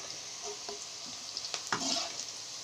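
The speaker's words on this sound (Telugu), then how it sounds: "కాకరకాయలు నూనెలో బ్రౌన్ కలర్ వచ్చేటట్టు" Sliced bitter gourd fries in oil while being stirred, browning in a pan, with a soft, steady sizzle broken by a few faint scraping and stirring clicks.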